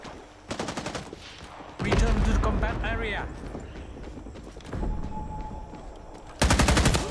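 Gunfire in a Vietnam War shooting video game: bursts of rapid automatic shots at the start and end, with someone talking excitedly over game sounds in between.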